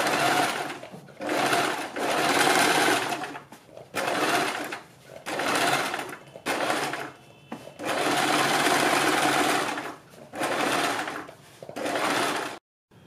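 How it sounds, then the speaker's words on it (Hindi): A sewing machine stitching a neck design on fabric along buckram, running in repeated bursts of steady whirring of a few seconds each, separated by short pauses, close and loud. "बीच में सिलाई लगाने के बाद हम बुकरम के बिल्कुल बराबर में पूरे गले के ऊपर सिलाई लगाएंगे।"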